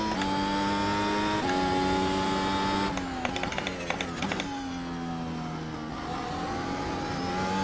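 A Mercedes W12 Formula 1 car in iRacing at full throttle, its engine a loud, continuous high whine that climbs through the revs, drops sharply at gear changes with brief clattering, then climbs again.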